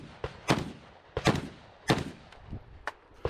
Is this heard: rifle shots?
yes